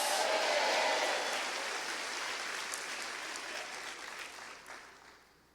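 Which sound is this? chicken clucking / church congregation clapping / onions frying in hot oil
church congregation clapping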